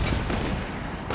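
Dense, continuous gunfire from a PS5 online shooter game, a loud sustained burst of shots with a brief dip near the end, heard alone without talk.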